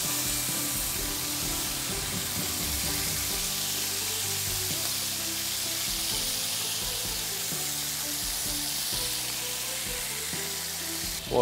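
Squid fries in a salted pan with a continuous loud hiss and sizzle lasting throughout, close up, with a few faint clinks and no talking.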